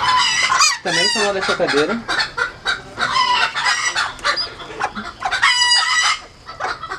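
A bantam hen clucks loudly and continuously at close range, with other chickens calling and a rooster-like crow mixed in, while someone speaks Portuguese over the flock.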